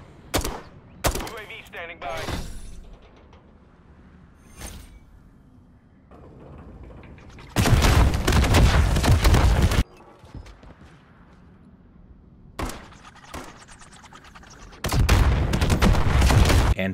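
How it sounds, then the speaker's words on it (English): Automatic gunfire from a spawn tube position on the Sub Base map in Modern Warfare III, with loud sustained bursts of rapid shots separated by quieter stretches and scattered single reports. "Aim directly at that and just start shooting."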